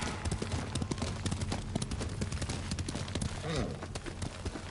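A horse gallops in the samurai video game Ghost of Tsushima, its hooves pounding out a fast, close, rhythmic clip-clop throughout, with a voice briefly speaking over the hoofbeats.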